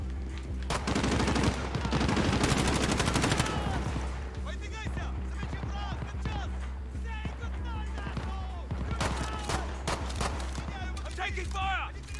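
Rapid bursts of video game gunfire crackle through the first few seconds, then thin out into scattered shots beneath steady voices talking over a low hum.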